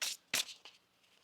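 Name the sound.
shuffling tarot cards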